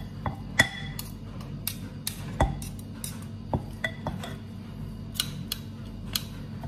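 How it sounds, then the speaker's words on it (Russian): Clattering of a baking dish of marinated potatoes being slid into a home oven: scattered light clinks and knocks at irregular intervals over a steady low hum, fairly quiet and close. "И все, пока поставлю в духовку."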